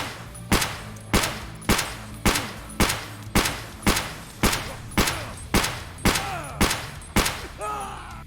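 Fourteen evenly spaced gunshots from a .366 rifle striking a slick plate carrier in Escape From Tarkov, each a sharp loud crack with a short tail, fired in a steady rhythm about every half second.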